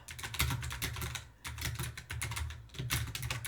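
Rapid typing on a computer keyboard, close and crisp, with quick bursts of keystrokes separated by brief pauses.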